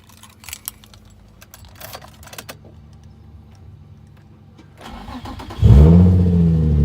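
Keys jangle in a few sharp, scattered bursts, then after a quiet stretch a Nissan 350Z engine cranks and fires, settling into a loud, steady idle close by.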